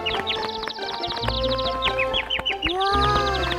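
A cartoon small bird sings in quick bright chirps and rising whistles, bursts repeating over a busy backdrop with low tones swelling in and out, close and loud.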